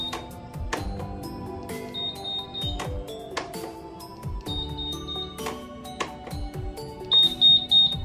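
Short electronic beeps from a 2017 Honda Scoopy keyless remote being paired, several sharp tones spread through the clip with a quick rapid beep series near the end, close and clear.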